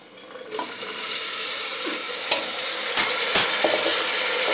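Mixed vegetables with spices and garam masala being stirred in a frying pan for pulao: a steady sizzle under scattered scrapes and knocks of the spoon, close and fairly loud, with no talking.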